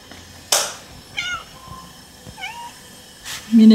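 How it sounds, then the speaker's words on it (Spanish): Several cats meow in a short sequence of distinct calls, one strong and fairly close, others softer, with quiet gaps between them and no talking. "Miren este mundial de gatos"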